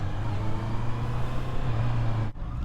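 Honda CBR650R E-Clutch motorcycle engine downshifting on the road, a steady droning engine note under wind noise whose pitch steps lower near the end, loud and close with a brief dip just before it finishes.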